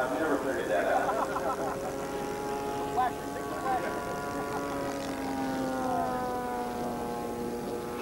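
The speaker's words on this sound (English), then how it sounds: "Chuck Fuller up overhead with the Sukhoi aerobatic aircraft with smoke on." A Sukhoi aerobatic aircraft passes overhead at an airshow, its engine a steady droning tone that rises and falls in pitch while a commentator talks over it.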